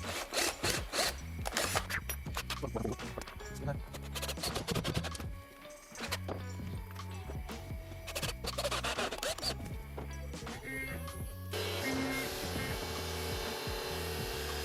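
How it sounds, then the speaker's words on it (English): A CNC machine cuts walnut knife handles, giving a continuous rough grinding and rasping of the cutter through the wood with a brief dip partway through, loud and close, with no talk. "we'll now clamp it up on the CNC machine and get them cut"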